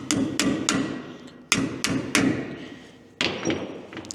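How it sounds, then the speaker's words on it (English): Sharp metal hammer strikes from a bar bending a lock washer tab against a jam nut on a trailer axle, five or six loud ringing blows spaced irregularly, each decaying quickly, close and alone. "take a little bar, bend the corresponding tab of that washer back down to hit that jam nut"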